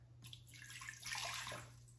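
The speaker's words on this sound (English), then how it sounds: "pour a cup of water." A cup of water is poured into an Instant Pot holding a trivet, a short splashing gush that swells midway and then tapers off, with a steady low hum underneath.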